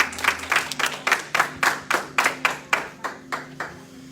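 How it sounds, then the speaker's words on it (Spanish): A church congregation claps together in a steady, even rhythm of sharp, regular hand claps, loud and close throughout. "Demos un aplauso al Señor."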